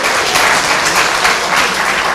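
Audience applause rings out at a university candidate presentation for a deputy vice-chancellor post, a short, loud, steady burst of many people clapping together.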